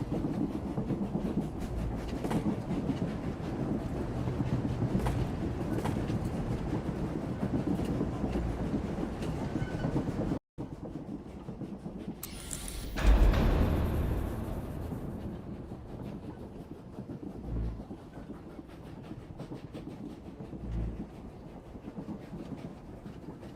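A moving train in Star Wars: The Old Republic rumbles steadily with rattling carriage noise and rhythmic clacks. A brief cut is followed by a loud whooshing surge, and then the steady rolling drone returns.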